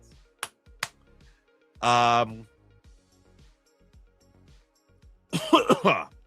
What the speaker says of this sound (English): Coughing up a lung here.